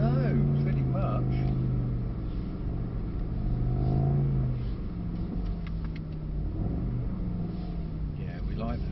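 A Mercedes-Benz SL63 sliding sideways on a driving-experience track, its engine a loud, sustained low drone that swells and falls in pitch as the revs shift, with voices talking over it.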